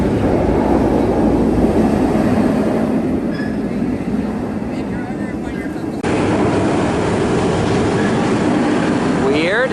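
Vortex roller coaster train running at Carowinds amusement park, a steady loud rumble and rattle of the cars on track throughout, with brief muffled voices in the background.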